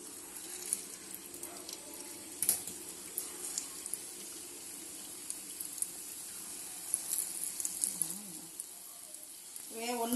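Batter squeezed into hot oil in a pan on the stove fries with a steady soft sizzle, with faint bubbling crackles and small clinks throughout, close by and fairly quiet.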